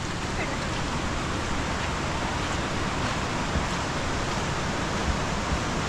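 A steady, dense roar of rushing water from a tall Konkan waterfall beside the Mumbai–Goa highway fills the scene evenly without pause.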